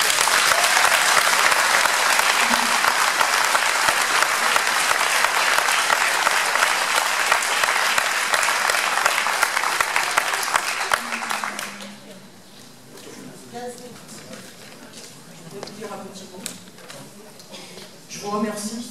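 An audience at a 2019 medal ceremony in Cognac applauds loudly and steadily for about eleven seconds. The clapping then fades out as a voice begins speaking in the hall.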